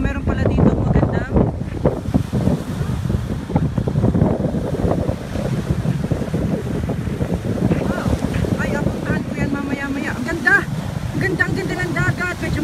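Sea waves wash against the shore at Pinggan in Gasan, with strong wind buffeting the microphone into a steady, loud roar throughout, and the surf rumbling underneath.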